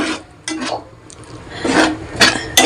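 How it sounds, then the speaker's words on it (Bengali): A ladle scrapes and clanks against a pan while stirring a tomato puree curry, in short bursts of close scraping with brief pauses between them. "এই যে হাতা দিয়ে ভালো করে আর কি নাড়বো"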